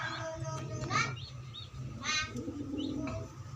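Pigeons coo in soft, repeated low calls close by, joined by a couple of brighter chirps, while someone murmurs faintly in the background.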